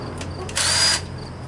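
A short burst of a power drill whirring for under a second while building a compost tumbler, fairly close, with quiet room noise before and after.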